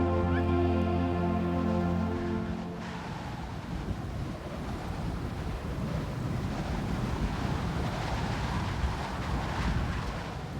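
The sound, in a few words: wind of a Siberian blizzard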